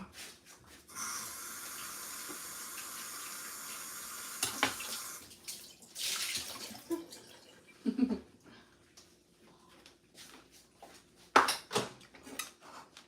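Tap water runs steadily into a sink for rinsing, a continuous splashing flow for several seconds, followed by intermittent clatter and handling noises as the water stops and starts.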